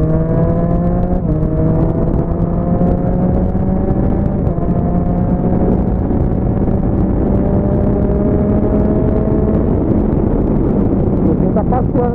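A car engine pulls steadily, its drone rising in pitch with short shift breaks, heard from inside the car at a constant loud level without talk.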